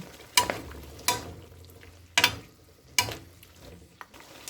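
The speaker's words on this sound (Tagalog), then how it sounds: "Haluin ulit natin." Vegetables with oyster sauce being stirred in a pan, four distinct scraping strokes spaced about a second apart over a low sizzle, close and clear with no talking.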